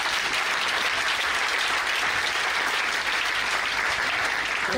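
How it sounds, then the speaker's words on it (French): A church congregation applauds the Holy Spirit in a loud, sustained burst of dense clapping that runs without a break and drowns out any voices. "je veux que tu acclames le Saint-Esprit"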